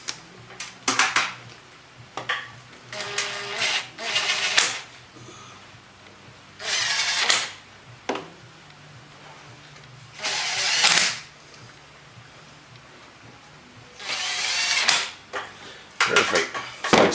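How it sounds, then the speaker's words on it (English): Short bursts of a powered driver run T20 Torx screws into the dust cover of a 2013 Polaris RZR 570. The whirring bursts stop and start with quiet gaps, and there are small handling clicks in between. "got all the screws started finally. They're T20 Torx. Screw them down."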